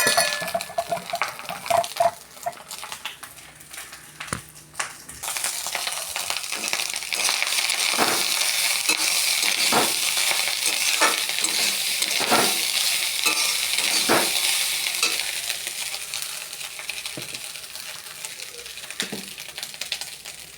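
Egg frying in hot oil in a pan, a loud continuous sizzle and crackle with scattered scraping and stirring clicks, starting quieter after a few opening knocks and staying dense to the end.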